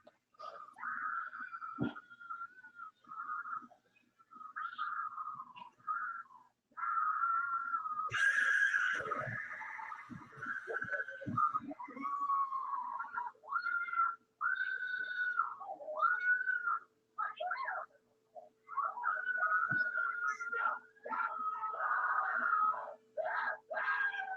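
A recording from the Candle Cove creepypasta holds long, sustained high-pitched screaming and wailing tones that rise and break repeatedly, fairly loud and alone, with brief noisy bursts partway through.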